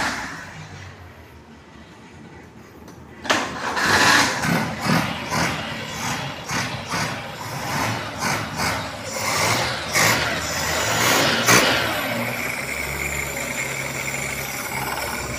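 A Daihatsu Ceria with an 800cc petrol engine and a fault of black exhaust smoke cranks, catches and settles into a close, uneven idle, with clanking handling noises around it.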